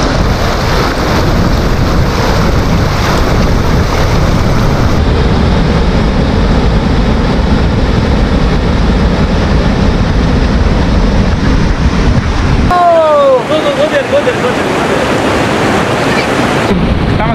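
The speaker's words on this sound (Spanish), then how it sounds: "Bethakar is famous for this waterfall." The Dhuandhar waterfall at Bhedaghat on the Narmada river makes a loud, continuous roaring rush. Heavy wind buffets the microphone for most of it, the roar briefly thins near the end, and there is no talk.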